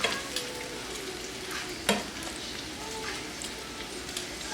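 Breaded pieces fry in a hot pan with oil, giving a steady, close crackling sizzle broken by a sharp pop or two.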